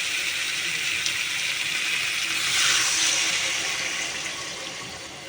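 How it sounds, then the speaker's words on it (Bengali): Water poured into a pan of Bengali curry after the spices are sautéed until the oil separates: a steady rushing hiss that swells in the middle and eases off, with no talking. "এবার জল দিয়ে দেবো"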